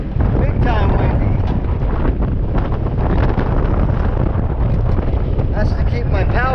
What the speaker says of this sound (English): Oh, it's windy out here. Big time windy.